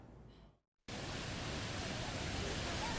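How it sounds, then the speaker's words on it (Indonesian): A cold lahar mudflow floods the Tukad Unda river in Klungkung, Bali, a loud, continuous roaring rush of churning water that cuts in abruptly after a short quieter stretch and a gap of near-silence. "Banjir lahar dingin kembali menerjang Sungai Tukat Unda Klungkung."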